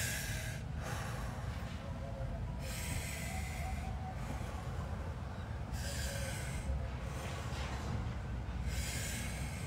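Deep, slow in-breaths and out-breaths from a person during a fascial maneuver session, repeated several times, rushing and airy over a steady background hum.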